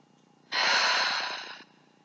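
One deep, steady exhalation of about a second during a gentle yoga session, a soft airy rush that swells quickly and then fades, close and alone with no talk.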